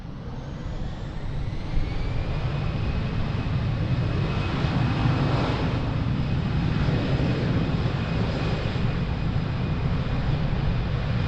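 A jet airliner takes off from runway 02 at Lisbon Airport, its engines building to a loud, sustained roar that holds steady and fills the whole stretch, with no voices.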